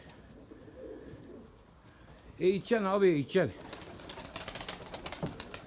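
A pigeon coos a few times in a short burst of throaty, rolling calls, close by, after someone speaks briefly.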